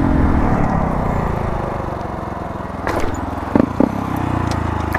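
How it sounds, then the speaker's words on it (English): A Honda Grom motorcycle riding wheelies down a road makes a loud, close engine drone. Its pitch shifts as the throttle varies, and a few sharp clunks come near the end. "I'm gonna go do some wheelies down this road again."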